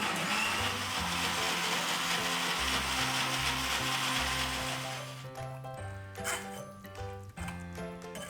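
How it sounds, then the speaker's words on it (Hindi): Mixer grinder whirring loudly as it blends juice with a little added water, a sustained motor drone for about five seconds that then stops, leaving a faint musical backing. "इसे हम एक बार और पीस लेंगे थोड़ा सा पानी डाल के।"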